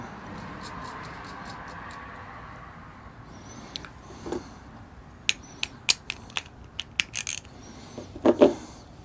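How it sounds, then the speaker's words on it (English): A ratchet tightens a nut onto a bolt with a washer and lock washer for a DIY camera mount, giving a quick series of close metallic clicks that are faint at first and grow sharper toward the end. "Got my ratchet on the other side."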